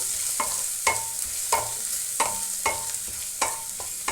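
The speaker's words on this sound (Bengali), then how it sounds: "রসুন আর আদাটা অল্প ভাজা ভাজা মতন হবে।" Garlic and ginger frying in a pan over lowered flame, a soft continuous sizzle punctuated by regular spatula scrapes and taps roughly every half second.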